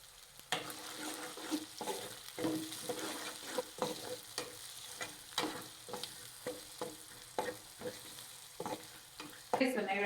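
Curry sizzling steadily in a pan as turmeric goes in, with a spoon scraping and stirring in a repeated rhythm of distinct strokes, close and fairly loud, with a brighter clatter at the very end.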